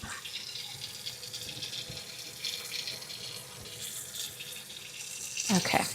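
Water runs steadily from a tap over a stencil while paste is washed off, a continuous splashing hiss with a brief gurgle near the end.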